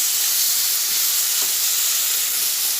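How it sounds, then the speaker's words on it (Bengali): Potatoes fry in a pan with a pinch of salt, giving a steady, even sizzling hiss that holds at the same level throughout with no talking. "আবার এর সঙ্গে আলুটা একটু ভালোভাবে ভেজে নিচ্ছি"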